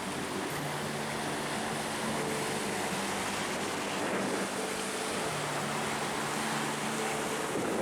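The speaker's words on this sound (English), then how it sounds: "pretty strong waves right now" Strong ocean waves off the coast of Kauai, a continuous broad wash of surf with wind buffeting, steady and moderately loud without speech.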